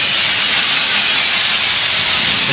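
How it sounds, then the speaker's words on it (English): Compressed air blasts in a steady, loud hiss during a boat keel damage repair, continuous and close for the whole short stretch with no gaps. "Not a bad idea to have some compressed air to"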